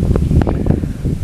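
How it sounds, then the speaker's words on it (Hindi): Strong gusty wind buffeting outdoors at a shooting range, a loud continuous rumbling roar with rustling. "काफी तेज हवा है"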